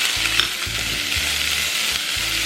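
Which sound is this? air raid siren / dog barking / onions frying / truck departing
onions frying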